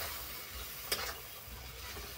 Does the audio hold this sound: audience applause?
no